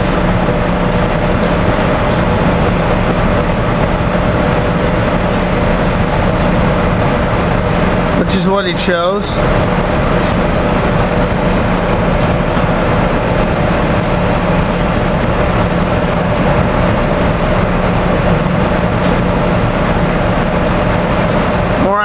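A loud, continuous rumble of a passing Amtrak Keystone passenger train led by engine 938 dominates throughout, with a brief horn-like tonal burst midway and a voice speaking over it.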